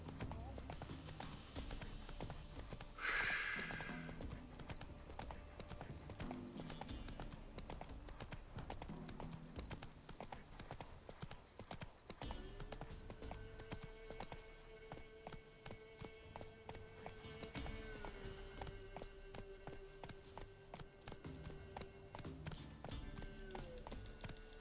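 Roach the horse trotting in The Witcher 3 Wild Hunt, hooves clip-clopping in a steady rhythmic beat throughout, moderately near, with occasional speech and game music layered over it.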